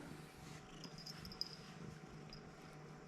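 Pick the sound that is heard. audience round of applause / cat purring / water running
cat purring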